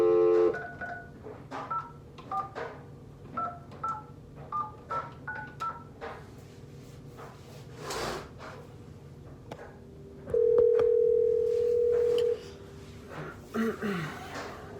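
A telephone handset at the start of a sales cold call, its keypad tones beeping in quick uneven bursts, then a long steady ringback-style tone; faint, near, with light breathing and no talk.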